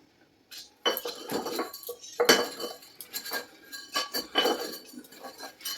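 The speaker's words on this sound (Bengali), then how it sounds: "এবার এগুলোকে এরকমভাবে গুঁড়ো করা হবে এই হামবদিস্তার সাহায্যে" Incense sticks are crushed with a metal mortar and pestle, a series of close, irregular pounding clanks and grinding scrapes in quick bursts, with no talk.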